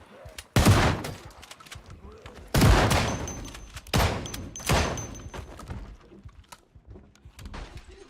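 Heavy gunshots against zombies in a video game, loud separated blasts with echoing tails a second or two apart, under and between voices talking.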